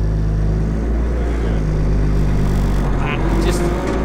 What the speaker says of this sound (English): you can hear all the turbo just spooling and winding